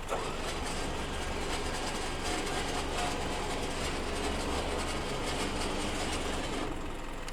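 A 2020 Isuzu NRR Switch-N-Go roll-off truck runs its winch to lower a chipper body, giving a continuous low mechanical drone with a steady engine rumble throughout.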